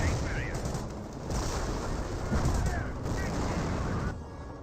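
A rocket artillery barrage in the Company of Heroes game erupts as a dense crackle of explosions and firing, with bursts swelling and fading under the sound of a commentator.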